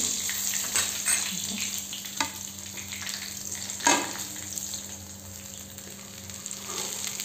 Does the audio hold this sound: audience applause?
no